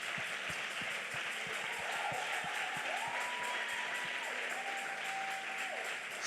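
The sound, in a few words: congregation applauding in church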